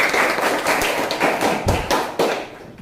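Classroom applause as students clap together after standing, a dense patter of hand claps with a few sharper slaps, fairly loud and close, continuing steadily with no voices over it.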